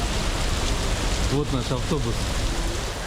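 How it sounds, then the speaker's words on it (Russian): A heavy rain downpour hisses steadily over a city street in Vlorë, Albania, a loud, dense wash of noise that continues throughout while someone speaks briefly in the middle. "Просто ливень, короче, мы положим, все ноги мокрые, все."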